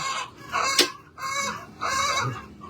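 Chickens cluck and a rooster crows on a poultry farm, with a sharp squawk standing out amid steady close-range fowl noise in bursts.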